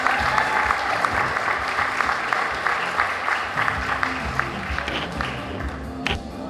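Sustained applause from an audience at the Wicomico County Teacher of the Year awards, honoring an elementary school teacher; dense, steady clapping fills the room throughout, with a few brief voices mixed in.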